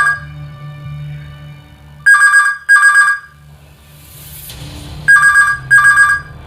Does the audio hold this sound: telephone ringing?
yes